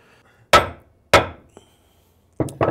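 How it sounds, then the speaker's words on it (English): Two sharp hammer strikes on wood, a pause, then two quicker knocks near the end; each blow is crisp and close with a short decay. "Something as simple as a block of wood and a hammer."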